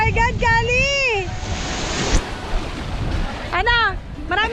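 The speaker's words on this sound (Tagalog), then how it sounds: "Lakas ng alon." Strong sea waves wash and roar in a steady, loud broadband rush on the shore at Calatagan, Batangas, with a brief surge midway, while excited voices shout and call out over the surf at the start and end.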